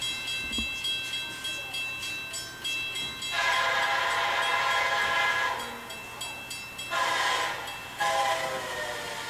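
A train passes with its horn sounding in several long blasts, the tone shifting as it approaches and moves away, over rumbling wheels and rail noise at a moderate distance outdoors.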